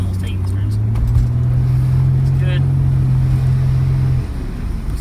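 Japanese import 2+2 sports car driving through turns, a steady engine drone from inside the cabin that drops off abruptly near the end, with voices talking over it.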